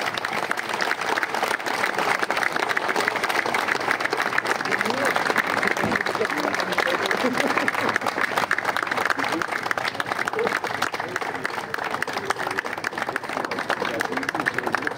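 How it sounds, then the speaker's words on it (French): A crowd applauds at the official inauguration of the Ducasse de Belœil festival, dense continuous clapping for the whole stretch with a loud, even roar of hands and some crowd noise mixed in. "Je propose qu'on les applaudisse bien fort et tout ensemble"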